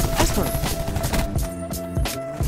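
Dense, continuous automatic gunfire from an RK-7 and a Saw in a Call of Duty team deathmatch on Madagascar, rapid overlapping shots filling the clip, with a player's voice talking over it.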